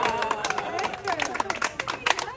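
Audience clapping after a card trick at an 80th birthday celebration: a small crowd's scattered, uneven claps with voices and chatter mixed in, close and moderately loud throughout.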